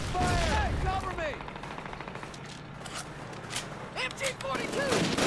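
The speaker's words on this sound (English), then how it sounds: "MG-42!" An MG-42 machine gun rattles in Call of Duty: United Offensive's American campaign, sustained rapid fire mixed with other gunshots in a busy battle, with shouted voices underneath.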